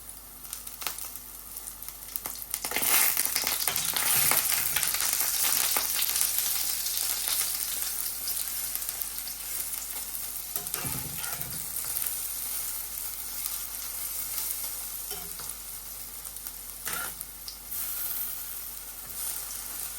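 Lentil fritters frying in hot oil, a continuous crackling sizzle that swells and eases, with occasional scrapes and clinks from the pan, nearby and without speech.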